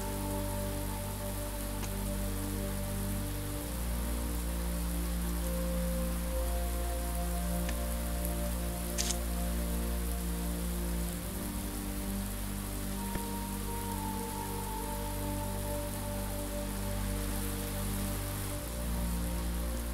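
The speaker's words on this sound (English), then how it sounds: "I like the sound of falling rain." Steady falling rain ambience in the video game Blue Prince, a continuous soft hiss of drops on surfaces running throughout over a low sustained musical drone, with no talking.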